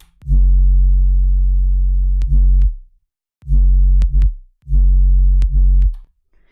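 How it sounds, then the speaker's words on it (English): Deep synth sub-bass tones, without a 200 Hz cut, sustain in three long bursts separated by short silences, each ending with a brief sliding drop. "Let's listen to the sub without me cutting the 200 hertz."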